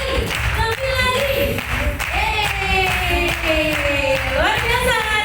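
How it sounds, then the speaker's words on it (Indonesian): A seminar audience claps with hands raised overhead, the steady clapping running loud throughout beneath sustained music with singing. "Coba semua angkat tangan, kita tepuk tangan di atas semua."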